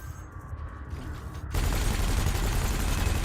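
Spaceship cannon and laser weapons fire in the space combat game Elite Dangerous, starting as a steady, loud, dense barrage partway through after a quieter hum of the ship's engines.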